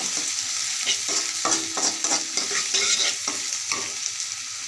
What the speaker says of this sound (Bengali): রসুন দিয়ে দিচ্ছি এগুলো আমার এখন লাল লাল করে ভেজে নেব